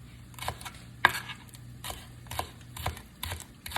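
A slightly dull kitchen knife cuts through onions on a board, giving soft, evenly spaced chops at about two per second. The chops sound close but fairly quiet over a low background hum.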